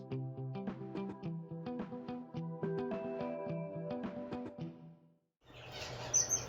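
Pet birds in an aviary chirp and tweet in short, bright bursts, some clear and close, others fainter, with a brief quiet gap before a scuffling rustle near the end.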